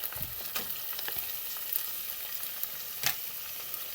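Hot pepper and garlic fry in a pan, giving a faint, steady sizzle with a few scattered stirring scrapes.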